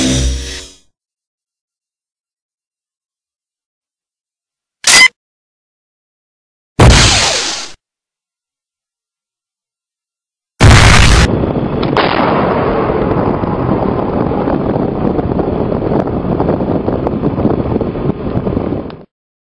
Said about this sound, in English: Alright, Blossom, show us your bow bomb.